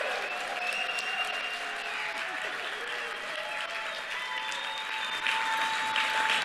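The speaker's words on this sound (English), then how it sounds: "you better clap really loud and proud for Isabella" Loud, sustained applause from a crowd at a state Democratic party convention, dense continuous clapping with some cheering tones rising over it, swelling slightly louder toward the end.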